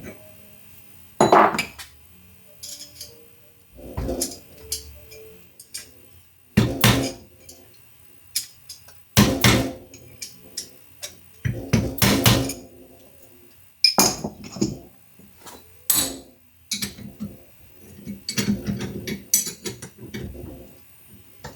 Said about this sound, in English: a little persuasion with a screwdriver to get it to just slip into the groove a little better